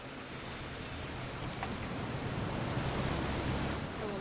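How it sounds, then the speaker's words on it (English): Steady rain falls in the game What Remains of Edith Finch, a dense, even hiss of drops on surfaces that continues unbroken throughout. "It's gonna rain the whole weekend"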